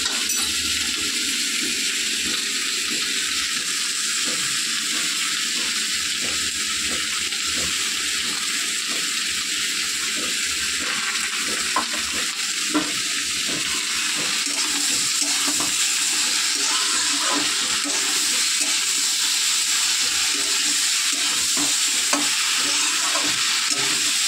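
Poppy seeds fry and are stirred in a pan, a constant bright sizzling hiss with soft scraping and clinking from the stirring, close and steady for the whole stretch with no talk.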